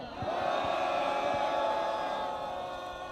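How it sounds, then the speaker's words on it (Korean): A crowd at an outdoor press conference on the steps of the National Assembly building in Seoul lets out a loud, sustained collective shout, many voices roaring together for a few seconds before tapering slightly. "큰 함성으로 기자회견을 시작하도록 하겠습니다"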